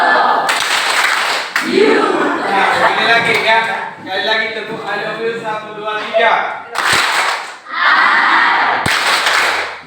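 Students in a classroom perform the 'tepuk I love you' clapping chant, loud sharp bursts of group claps alternating with voices chanting together, and a teacher counting them in.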